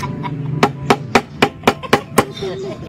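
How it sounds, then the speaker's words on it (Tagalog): Seven sharp hammer blows strike in a steady, quick rhythm, loud and close, over a low background hum. "Bagong martilyo."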